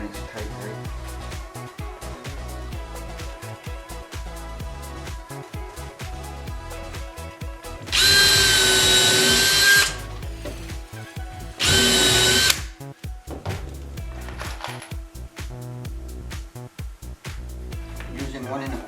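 A cordless power drill drives 1 1/4-inch deck screws into the wooden frame of a homemade screen door, two loud sustained whirring bursts of about two seconds and one second over a steady background.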